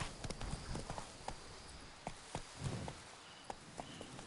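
Hooves of Roach, a horse in The Witcher 3 video game, clip-clop along in a quick, irregular rhythm, faint and slightly distant, with a soft background bed underneath.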